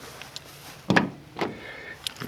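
A 1994 Chevrolet Astro van's side door lock actuating, a sharp mechanical clack followed by a second softer click, close and fairly quiet with light handling noise around it.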